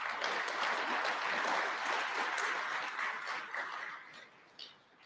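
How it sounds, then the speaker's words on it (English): Audience applause at a Veterans Day ceremony, a fairly quiet, distant patter of many hands that holds steady and then fades away toward the close. "Give him a round of applause."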